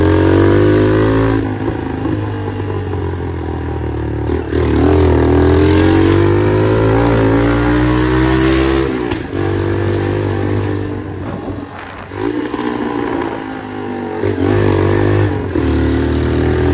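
A Moby moped with a modified bare exhaust pipe revs loudly up close, its raw rasping engine rising and falling in repeated throttle blips for over fifteen seconds.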